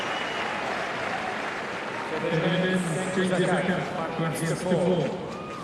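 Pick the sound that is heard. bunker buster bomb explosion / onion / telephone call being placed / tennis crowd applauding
tennis crowd applauding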